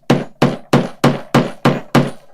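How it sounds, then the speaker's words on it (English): Seven evenly spaced hammer blows strike a flooring installation tool laid on top of the boards, each a loud, close, solid thud with a short decaying tail, in a steady rhythm. "probably the most hammering I think they've ever heard on one of our live shows"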